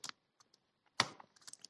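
Computer keys tap in a sparse, uneven run of light clicks, one sharper louder stroke in the middle, close and quiet with no voices.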